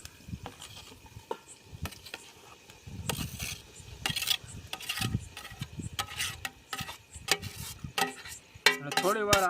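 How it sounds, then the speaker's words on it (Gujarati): Roasted eggplant for ringan no oro being stirred into hot oil, with scraping spoon-on-pan strokes and a light sizzle, repeated in uneven bursts. "તો મિત્રો હવે આપણે જે રીંગણા શેકીને કમ્પ્લીટ કરેલા છે એ હવે આમાં નાખી દઈશું"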